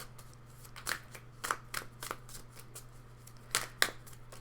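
Tarot cards being shuffled close up, with a handful of soft, separate papery riffles and snaps spread across a quiet background hum.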